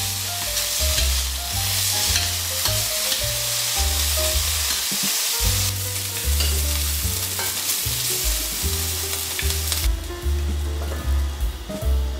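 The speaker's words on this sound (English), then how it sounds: "Let's cook our speck in a pan." Speck cooks gently in a pan without added fat, giving a continuous close sizzle with occasional stirring scrapes and a low rumbling hum underneath. No one speaks.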